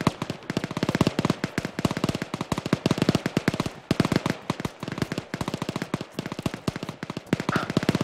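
Machine gun fire in the military shooter Arma 3, dense rapid bursts of sharp shots in fast rhythm, loud and sustained with only short pauses, with no voices over it.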